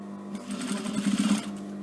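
A sewing machine stitches quilt binding, a close, brief steady hum with a quick rattling burst of stitches in the middle, heard alone.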